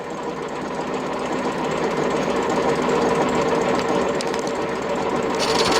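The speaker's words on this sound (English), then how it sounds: "the old blades are just finishing spinning round now. You can hear them clanking on the bottom drum" Hay mower blades spin down and clank against the bottom drum in a steady rattling mechanical chatter, moderately loud and continuous with no voices.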